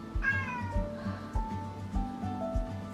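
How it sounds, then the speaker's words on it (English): A calico cat meows repeatedly in a row of about five short, close, fairly loud cries with brief gaps between them. "a calico cat."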